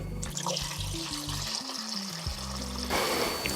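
Water poured into a pan over fried pork chops makes a steady rushing splash and trickle, close and continuous, with a low music bed underneath.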